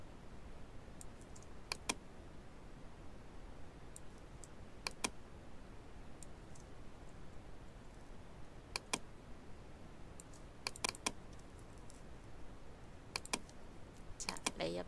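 Keyboard typing and mouse clicking while editing in Photoshop, heard as faint, sparse clusters of sharp clicks scattered over a quiet background.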